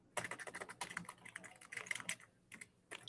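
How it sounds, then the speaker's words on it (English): Rapid, irregular clatter of keys on a computer keyboard during an online meeting, close and steady, with no talk over it. "Maybe you could mute while you're typing."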